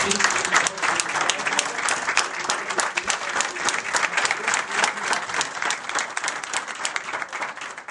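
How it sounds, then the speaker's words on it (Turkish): Audience applause at a Şişli municipal council meeting welcoming a mayoral candidate, a dense, steady burst of clapping from a room full of people that carries on evenly and tapers slightly at the end. "ve alkışlıyoruz"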